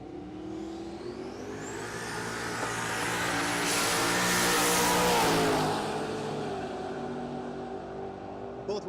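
Drag racing cars launching side by side down the strip at Texas Motorplex during Rocky Mountain Race Week 2024, a roaring engine drone swelling to a peak midway then fading as they pull away, with a commentator talking throughout.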